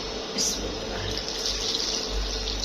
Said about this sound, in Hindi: ये पानी भी डालना अभी